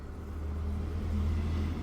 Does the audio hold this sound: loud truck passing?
yes